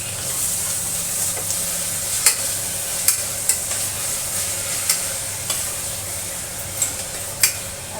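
Crushed tomatoes and onion sautéing in oil make a constant close hiss and sizzle, punctuated every second or so by sharp spatula taps and scrapes against the pan, no talking.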